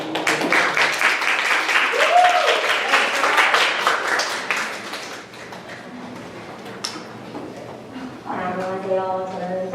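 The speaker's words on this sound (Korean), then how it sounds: "네, 큰 박수를 보내주세요." An audience claps at a Korean speaking contest for foreign students, lively applause for the first few seconds that then fades, followed by a person beginning to speak into a microphone.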